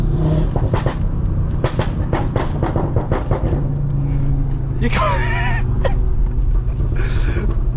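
A 2019 Audi RS3 with a Milltek exhaust rumbles up close while sharp crackling pops and bangs fire in quick bursts; someone speaks briefly over the engine near the end.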